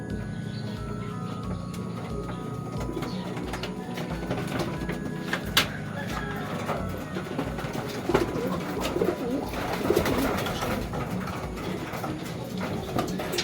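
Racing pigeons in a loft coo steadily at close range, low murmuring calls overlapping throughout with occasional soft flutters and knocks in the background.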